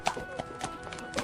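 Horse hooves clip-clopping as a sound effect in a narrated folk story, a few quick close taps over a faint background with no speech.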